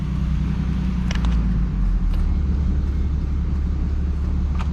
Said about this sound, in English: I turned my truck on too soon.